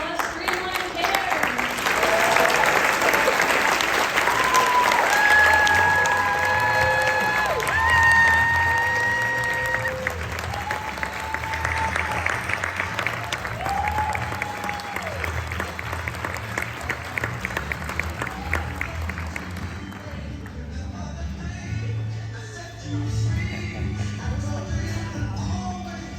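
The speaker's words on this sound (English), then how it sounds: "A big round of applause." Sustained audience applause with cheering at a startup demo day pitch event, loud and dense for about twenty seconds before thinning into scattered clapping and room noise.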